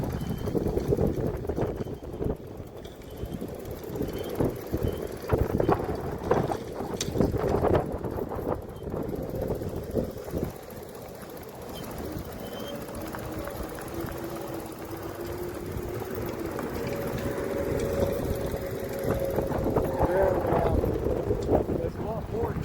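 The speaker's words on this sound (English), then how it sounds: "The wind's blowing pretty good here" Strong wind buffets the microphone outdoors at a sculpture park while riding an e-bike, a continuous loud rumbling roar with gusts, and a person talks over it.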